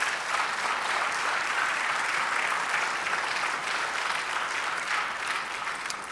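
Sustained, dense applause from a church congregation fills the space evenly, a steady wash of many hands clapping with no voice over it.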